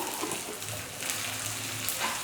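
Small onions salted and sautéing in a pan give off a soft, steady sizzle, a low continuous hiss with light stirring-like flutters, fairly quiet and without talk.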